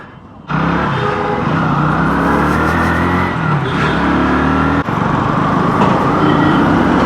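A KTM 160 Duke motorcycle engine revs on a test ride. It runs loud and steady from close by, with a brief dip partway through before it picks up again.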